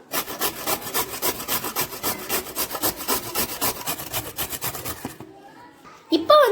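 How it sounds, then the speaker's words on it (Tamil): Carrots are rubbed rapidly against a grater in a fast, even rasping rhythm, close and loud for about five seconds, then the scraping stops and a voice briefly speaks. "இதை வந்து துருவதை வச்சு நம்ம இதுவரை நல்லா துருவி எடுத்துக்கலாம்"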